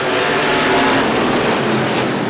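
Stock cars in a Strictly Stock feature race roar around the Star Speedway oval as a dense, continuous wall of loud engine noise, with no voices on top.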